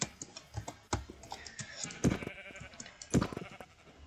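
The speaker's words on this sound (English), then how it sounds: "Oh, and some sheep." Sheep bleat in a Minecraft game, several short nasal bleats spaced irregularly, with clicky keyboard-like tapping in between and no speech.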